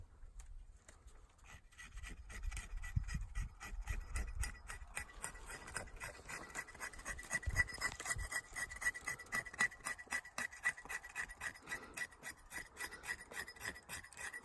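Knife blade scraping wood shavings for a bow drill fire, rapid repeated rasping strokes in a steady rhythm, close and fairly quiet, with a few low thumps early on.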